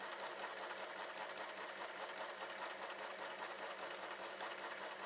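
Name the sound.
overlocker sewing a rolled hem on a napkin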